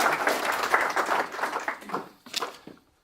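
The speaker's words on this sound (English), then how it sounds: "Round of applause" An audience at a talk gives a round of applause, a dense clatter of clapping that thins out, surges briefly once more, then fades to silence.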